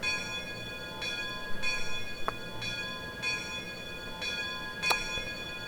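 The locomotive bell of a WVRR 2-8-2 steam engine in the Trainz 2019 railway simulator rings in a steady, evenly spaced series of clear metallic strokes over a low background rumble.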